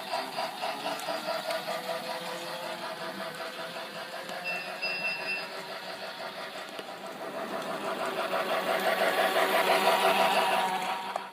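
A small electric motor whirs steadily with a rhythmic mechanical clatter as a G gauge Polar Express model locomotive runs in reverse along track, growing slightly louder toward the end.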